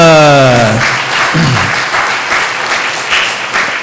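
Church congregation applauding during a Sunday morning service, a loud, close burst of clapping that begins under a speaking voice and carries on with slight swells.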